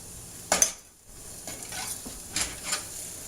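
Onions sauteing in butter in a pan for a turkey curry give a soft, low sizzle, broken by a few sharp scrapes and clinks of stirring near the start and again toward the end.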